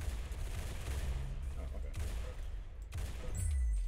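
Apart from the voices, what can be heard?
rail gun firing in Roblox Arsenal video game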